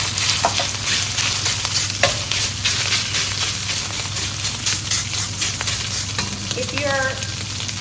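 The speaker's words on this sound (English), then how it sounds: "add it to the smoking hot wok" Beef hitting a smoking hot carbon steel wok, a loud dense sizzle that holds steady with stirring scrapes and clinks of a utensil against the metal, close and with no talking.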